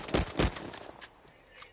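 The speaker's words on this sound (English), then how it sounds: "For the Para 45, or not 45, the Para 9, let's see how this pistol is" Two sharp pistol shots from a Para 9 ring out in quick succession in Uncharted 4 multiplayer, each with a short decaying tail, followed by quieter game ambience.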